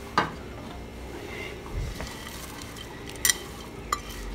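Frijoles charros with bacon and sausage are stirred in a pot, with soft scraping and a handful of faint utensil clinks and knocks at irregular moments over a low background.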